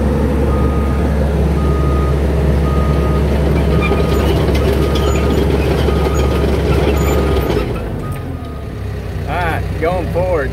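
A Cat D5K2 XL dozer runs at full RPM with low hydraulic flow, a loud, steady close engine drone that eases near the end, with a repeating beep-like tone and a person talking over it.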